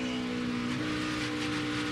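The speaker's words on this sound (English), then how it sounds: "That's just the car bottoming out on the racetrack" NASCAR Cup race car running at speed on the Pocono racetrack during qualifying, a steady loud engine drone with a faint scraping undertone as the chassis bottoms out.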